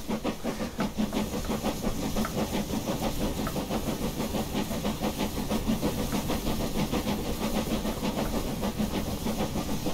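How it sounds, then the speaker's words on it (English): Continuous rapid steam chuffing and hiss from an LMS Princess Royal 4-6-2 locomotive in Train Simulator, rhythmic and dense, steady and loud throughout with no voices. "Really like the chuff sounds"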